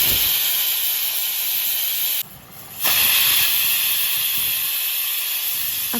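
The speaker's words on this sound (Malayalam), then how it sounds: "അപ്പോൾ ഇതാ 3 വിസിൽ വന്നിട്ടുണ്ട്." A pressure cooker vents steam while masala chicken cooks, a loud, sharp, continuous hiss that breaks off for about half a second before resuming at full strength.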